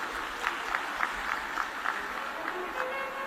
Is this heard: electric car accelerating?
no